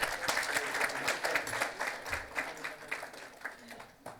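An audience at a national convention of insolvency professionals and registered valuers claps in a steady, moderately loud round that holds evenly for several seconds after a memento is presented.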